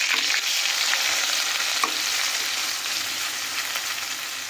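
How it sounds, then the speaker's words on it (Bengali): Grated onion frying in hot oil in a pan, a continuous bright sizzle that stays steady and close throughout, with a faint stir or two and no talking. "এখানে পেঁয়াজটা খুব ভালোভাবে ভাজা হয়ে গেছে"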